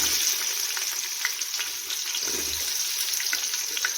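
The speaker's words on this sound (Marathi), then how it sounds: "मस्त फ्राय करून घेऊया मसाला खडा छान फ्राय होत आले की त्यात टाकून घेऊया कांदा" Onion frying in a pan with whole spices in hot oil gives a steady, soft sizzle that runs evenly throughout with faint stirring scrapes.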